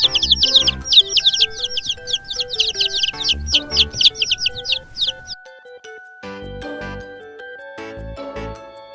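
A chick cheeps in rapid bursts of high, thin chirps for about five seconds over light background music, then falls silent while the music carries on.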